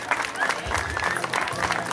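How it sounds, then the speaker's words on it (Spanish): Applause from a crowd at a parish chapel's fiftieth anniversary celebration after Mass, a steady close wash of many hands clapping with a voice briefly heard over it. "un fuerte aplauso para ustedes"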